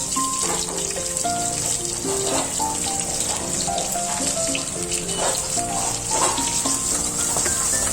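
Onions and green chillies for semiya upma frying in a pan, a bright continuous sizzle with occasional stirring clinks, overlaid by a running-water-like hiss and a faint melodic tone, no talking.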